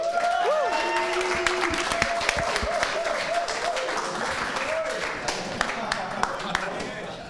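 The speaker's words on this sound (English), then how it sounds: "give a random applause for the next speaker" A meetup audience claps to welcome the next speaker, a moderate patter of hand claps mixed with murmuring voices in a room.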